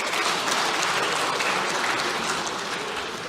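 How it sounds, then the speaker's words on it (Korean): Lawmakers applaud in the National Assembly during an unusual holiday session, a dense, sustained wash of clapping from a large room that holds steady throughout and tapers slightly at the end. "이럴 때 박수 한번 치시면 어떨까요?"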